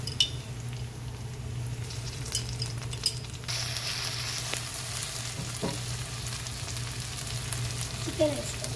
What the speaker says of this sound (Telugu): ఇప్పుడు అల్లం వెల్లిపాయ పేస్ట్ 1 స్పూన్ వేసుకోండి